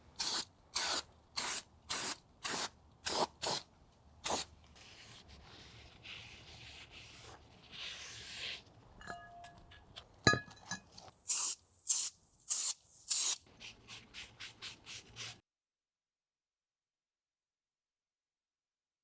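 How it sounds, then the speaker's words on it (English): Brake cleaner hisses onto a new R1 Concepts Geo Carbon brake rotor for an Alfa Romeo Stelvio/Giulia: a string of sharp, evenly spaced spray bursts, a longer stretch of rubbing and spraying, then quicker bursts before silence. "I'm also going to be using brake clean to clean this new rotor."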